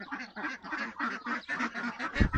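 A group of ducks quacks continuously at a duck house on an ecolodge south of Marrakech, busy overlapping calls close by with a rustling bump near the end.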